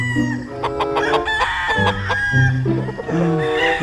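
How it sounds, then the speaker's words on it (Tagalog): Roosters crow loudly and repeatedly close by, overlapping with chickens clucking in a busy farmyard. "Daming manok, Anli."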